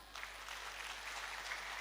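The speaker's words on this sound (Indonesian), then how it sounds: "Tepuk tangan dong." Audience at a Batak community thanksgiving gathering breaks into applause, a dense, steady wash of many hands clapping, fairly faint and distant, with no talking.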